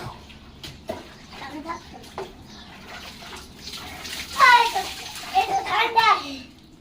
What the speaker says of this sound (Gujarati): ઠંડા પાણીથી નાય છે